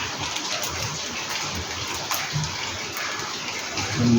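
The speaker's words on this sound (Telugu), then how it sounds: "వర్షం చూడ ఎట్ట పడుతుందో. ఫుల్లుగా రాత్రి నుంచి పడుతుంది." Heavy rain falls steadily and loudly, a constant hissing downpour with dense patter and no pauses, while a faint low voice murmurs briefly near the end.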